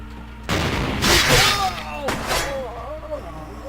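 Gunfire in the video game Vampire the Masquerade: Bloodlines: loud game shots and booming impacts burst in abruptly, with a heavy blast early on and rumbling, echoing decays that fill the short stretch.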